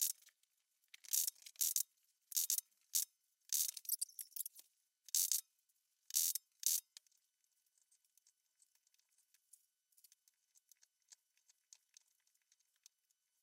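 Small screws being tightened down to secure the pommel on a forged dagger with a stacked leather handle, heard as a series of close, crisp ratcheting clicks in quick bursts during the first seven seconds, then fading to faint scattered ticks.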